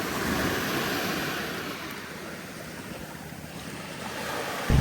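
Waves breaking on a beach in Vietnam, a steady broad wash of surf that swells slightly and then settles, with wind buffeting the microphone and no voices.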